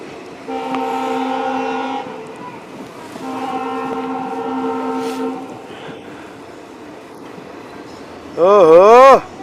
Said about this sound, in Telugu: అది అదే ట్రైన్